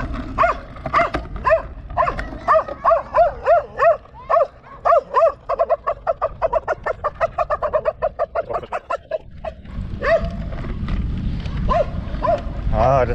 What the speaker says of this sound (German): Ja, diese Hunde.